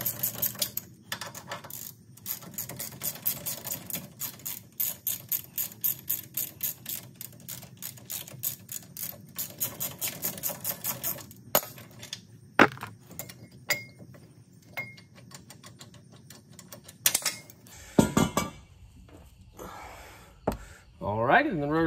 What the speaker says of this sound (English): Now to pop this caliper bracket all the way off as well.